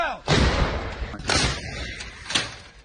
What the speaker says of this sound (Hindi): ये जो धमाकों की तस्वीर, आवाज सुनाई दे रही है आपको